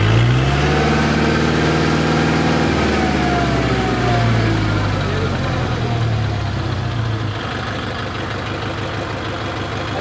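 A Kubota MU4501 tractor engine runs loud and close, with its pitch rising as it revs up, then holds a steady high drone at full throttle.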